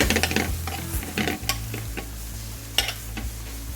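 Broccoli with finely chopped ginger and green coriander stir-fried in a pan, a steady close sizzle with repeated scraping and clinking of the utensil against the pan, no talking.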